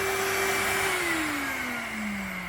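A household vacuum cleaner runs steadily and loudly with a whining motor tone that slowly drops in pitch as it works, no voices present.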